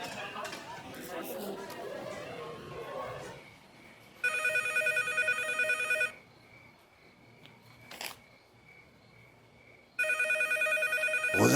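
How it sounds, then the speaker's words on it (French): Telephone bell ringing in a home during a dubbed drama, two loud electronic trills a few seconds apart following chatter and voices, with a brief pause between rings. "Tu n'as pas entendu le téléphone, ma fille?"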